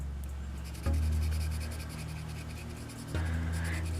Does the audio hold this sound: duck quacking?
no